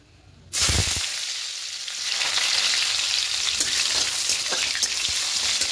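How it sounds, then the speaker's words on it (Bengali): Bitter gourd pieces dropped into hot oil in a pan, a sudden loud burst of sizzling that settles into a dense, steady crackling fry with scattered pops, close and continuous without any talk. "এর মধ্যে প্রথমে করলাগুলোকে ভেজে নেব।"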